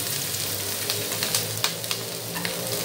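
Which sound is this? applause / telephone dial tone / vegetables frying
vegetables frying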